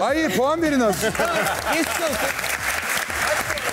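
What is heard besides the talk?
consolation applause from studio audience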